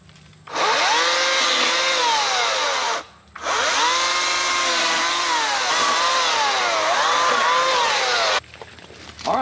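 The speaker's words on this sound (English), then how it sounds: "let's go ahead and cut this up with our 14-inch bar Alice chainsaw" A Harbor Freight Atlas chainsaw with a 14-inch bar roars loudly up close, cutting tree limbs in two long bursts with a brief drop in between, the engine pitch rising and falling under load.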